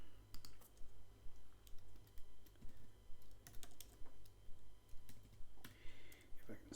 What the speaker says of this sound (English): If I can just get my typing on